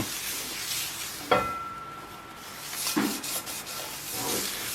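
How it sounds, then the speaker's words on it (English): Oil is rubbed into a cast iron pan with soft, continuous close-up rubbing and wiping, a few sharper scuffs and knocks, and no speech. "you should try to make sure that the oil is nicely spread around in a smooth coating"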